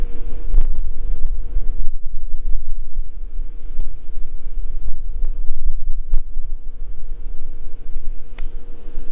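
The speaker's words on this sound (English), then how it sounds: "a blustery day in sunny Stoke today" Strong, gusty wind roars steadily across the microphone on a golf course in Stoke, a loud continuous low rumble with no voices.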